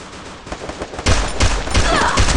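Rapid bursts of gunfire in the Free Fire battle royale game, loud repeated shots after a quieter start, thudding in a steady rhythm with sharp transient cracks and layered game noise.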